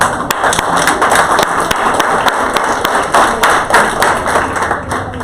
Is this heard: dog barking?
no